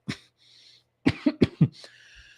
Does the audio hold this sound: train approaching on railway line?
no